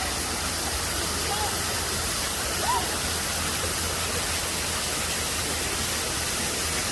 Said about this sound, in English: Got this little man-made waterfall here.